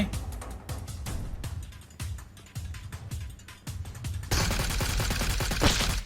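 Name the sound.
gunfire in video game PUBG Mobile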